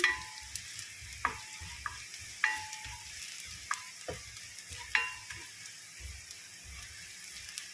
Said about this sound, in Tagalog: Ayan lang natin mag-golden brown ang ating bawang.